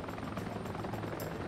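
Helicopter rotor and engine drone from the video game Heliborne, a steady broadband whir that holds at an even, fairly quiet level throughout.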